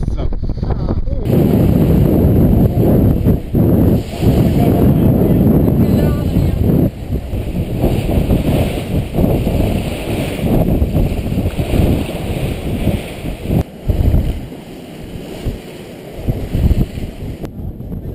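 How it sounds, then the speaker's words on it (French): Strong wind buffets the microphone on a boat at sea past the Pointe de Barfleur, a loud continuous roar with gusts and rushing water, easing somewhat toward the end. "Passé la pointe de Barfleur, la mer et la force du vent augmentent."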